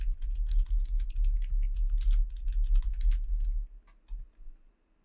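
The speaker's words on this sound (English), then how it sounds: "type down your password" Password typed on a computer keyboard while setting up a new crypto wallet in a browser extension: a quick, close run of key clicks for about four seconds, then a few scattered taps as it trails off, with no talk.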